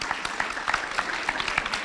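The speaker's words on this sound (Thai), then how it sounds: "ปรบมือต้อนรับนะครับผู้ช่วยศาสตราจารย์ดร." An audience at a science book launch and panel discussion applauds in welcome, a brief spell of scattered, moderately faint clapping with individual claps popping out of a steady wash.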